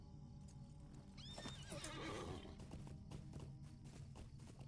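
A horse whinnies once in Lord of the Rings Online, a rising, fairly loud neigh over steady game ambience and faint hoofbeats, with no talking.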